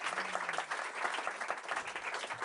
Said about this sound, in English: Let's give them a little round of applause to get them warmed up.